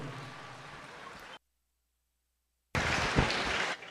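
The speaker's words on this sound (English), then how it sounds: "let's fire up the applause one more time" An audience at a county fair steer show breaks into a loud, dense wash of clapping, cut by a sudden stretch of silence before the applause resumes just as strongly.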